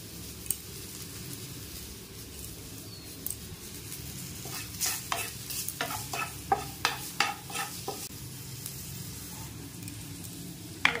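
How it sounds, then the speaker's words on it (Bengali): Spices with salt and turmeric being stirred into hot mustard oil for a rui fish curry: a steady close sizzle with repeated sharp scrapes and clicks of a spoon against the pan, growing busier toward the end. "মশলাটা ভালো করে একটু নেড়ে নিয়েছি তেলে"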